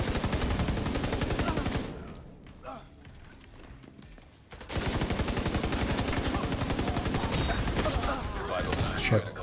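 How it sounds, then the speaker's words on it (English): Sustained automatic fire from two light machine guns in The Division, loud and dense, breaking off briefly in the middle before resuming in rapid continuous bursts. "Well, it's 2 LMGs."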